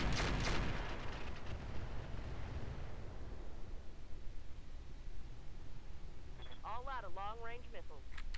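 Mech weapons fire in the Roguetech video game: one loud, booming blast that fades into a long rumbling tail. A short burst of radio-style chatter comes in near the end.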